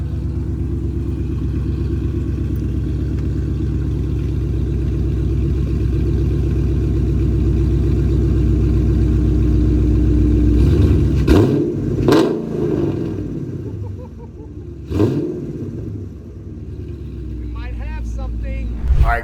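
Dodge Challenger RT 5.7 Hemi with Stainless Works long tube headers idling with a deep, steady burble, punctuated by a few sharp throttle blips late on, people talking over it.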